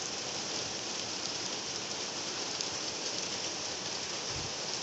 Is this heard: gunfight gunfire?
no